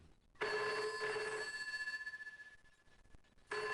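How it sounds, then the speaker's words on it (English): An old-style telephone bell rings in two bursts, a bright metallic trill that fades slightly before pausing, then starts again, close and clear with no voices. "The telephone was ringing"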